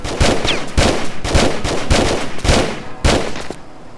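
Repeated gunfire in the Tomb Raider Chronicles video game: about six loud, sharp shots with short gaps between bursts, close and dominant with no talking.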